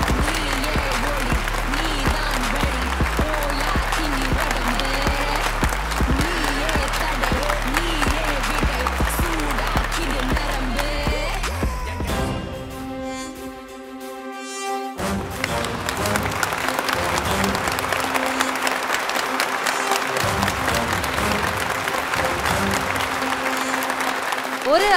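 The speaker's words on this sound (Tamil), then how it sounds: "ஒரு மிகப்பெரிய கைத்தட்டலோட let's welcome Sharmin Shayad onto the stage" Audience at an awards ceremony applauding as a winner is welcomed onto the stage, long sustained clapping that fades briefly in the middle before swelling again, with a host's amplified voice over it.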